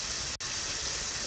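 Water runs from a faucet as a steady hiss of white noise that fills the space. It stays continuous apart from one very brief dip, and no one speaks over it.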